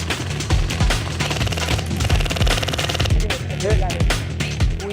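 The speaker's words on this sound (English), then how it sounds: "We got some of the locals on our side, so they're shooting for us." Rapid bursts of gunfire from allied locals in the video game RedStorm 3 pound along in quick repeated thumps under ongoing game noise, with players talking over it.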